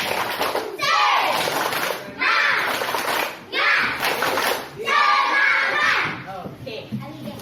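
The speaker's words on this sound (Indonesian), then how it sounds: "Coba tepuk semangat sekali lagi" Schoolchildren in a classroom shout a rhythmic clapping chant together, four loud bursts of voices with claps and thumps, ending in scattered chatter.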